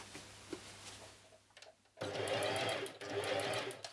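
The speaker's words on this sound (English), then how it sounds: "You then start to sew the pieces together." A sewing machine joins pleated skirt pieces, starting after a quiet pause and running in two short, loud bursts of fast stitching.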